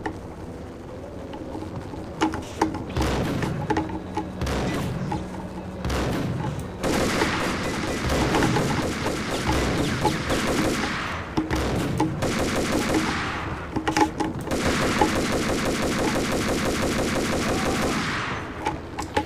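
Sustained gunfire from the Max Payne shooter game, rapid bursts and automatic fire crackling loudly in dense volleys with brief pauses, building into heavy barrages in a penthouse shootout.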